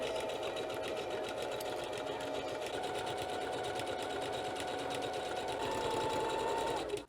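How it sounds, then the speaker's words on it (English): Sewing machine running steadily, stitching layers of material for a cosplay ammo belt: a continuous, close, loud mechanical whir with fast rhythmic needle chatter throughout, no pauses. "Let's get the sewing machine out and run these through it."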